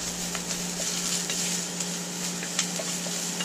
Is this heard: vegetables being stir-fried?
yes